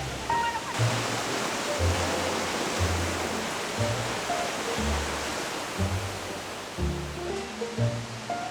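Roaring rush of a waterfall in Da Lat, Vietnam, broad and steady, with a low rhythmic pulsing thrum underneath, fairly loud and continuous.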